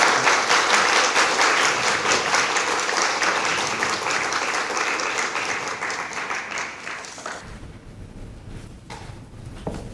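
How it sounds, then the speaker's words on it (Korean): Audience at a university guest lecture applauds to welcome a speaker, a loud, dense round of clapping that fades after about seven seconds into scattered claps and room noise. "우리 워셀 박사님 큰 박수로 모시도록 하겠습니다"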